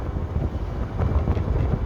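Low rumbling wind buffets the microphone in steady gusts while riding a Yamaha XMAX 250 scooter, a dull roar with no voices.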